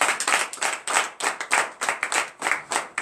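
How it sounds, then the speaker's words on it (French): A standing congregation claps in acclamation to Jesus during a morning prayer service in Comè, Benin, with rhythmic, loud, closely spaced claps that pulse in steady groups. "nous allons nous lever sur nos pieds avec la joie et donner l'acclamation à Jésus"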